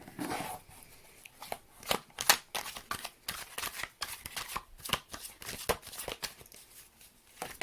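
Tarot card decks being shuffled in a quiet room, a steady run of crisp riffling and slapping bursts, close and fairly soft, with no voice.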